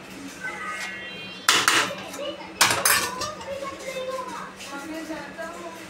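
A lid lands on a pan of semolina cooking over low heat, giving two sharp metallic clanks over a soft background hiss, while a voice talks.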